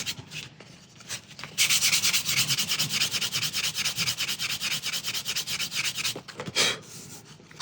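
Sandpaper rubbed by hand over a plastic part of a Victorian mystery clock makes a close, rhythmic scratching of quick back-and-forth strokes, with brief pauses at the start and near the end.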